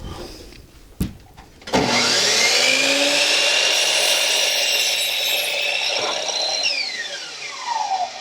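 A power saw set against a 37-inch stop cuts a board for a farmhouse trash cabinet. A sharp knock comes first, then the saw spins up loudly, runs steadily through the cut for about five seconds, and winds down.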